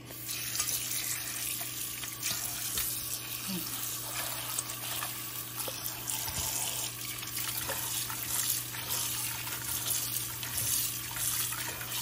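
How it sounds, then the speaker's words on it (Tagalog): Tap water runs steadily into a sink while salted bitter melon is rinsed by hand for pickling, a continuous broadband wash with faint handling sounds and no talk. "Nang hugasan ng tubig."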